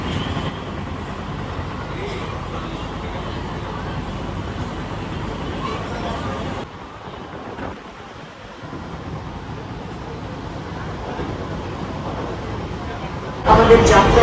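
A steady rumbling ride aboard a Sealdah–Ranaghat AC local train, continuous wheel and carriage noise that dips briefly midway and swells louder right at the end.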